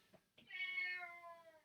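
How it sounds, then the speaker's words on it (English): A domestic cat meows once, close and clear, a drawn-out rising-then-falling cry lasting about a second after a short soft chirp, with no talk over it. "Excuse my cat."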